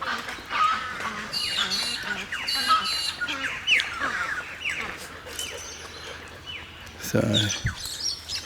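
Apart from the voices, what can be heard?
crows squawking at a bird sanctuary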